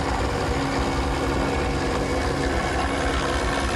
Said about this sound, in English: That was a helicopter directly over my head.